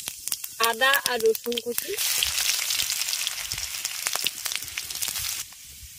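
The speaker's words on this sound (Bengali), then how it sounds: "কড়াইয়ের মধ্যে দিয়ে দিচ্ছি সর্ষের তেল। আপনারা চাইলে কিন্তু এই রান্নাটা সাদা তেলেও করতে পারেন। তেলের মধ্যে দিয়ে দিচ্ছি গোটা জিরে" Whole cumin seeds sizzle and crackle in hot mustard oil in a wok, a steady dense frying hiss that continues after a short spoken phrase at the start.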